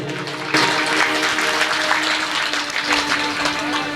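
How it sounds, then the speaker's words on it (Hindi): A gathering at a Hindu religious storytelling discourse bursts into applause that begins sharply and then holds as steady, dense clapping from many hands, filling the hall. "एक बार ताली बजाइए।"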